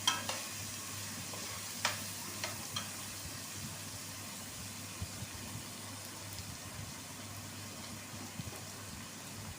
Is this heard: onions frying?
yes